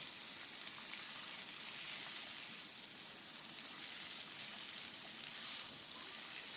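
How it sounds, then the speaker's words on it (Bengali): Potatoes and green bananas frying in oil in a pan, a steady soft sizzling crackle that holds even and close throughout with no talk. "দিয়ে একটু দু তিন মিনিট ভাজা করব আলুগুলো"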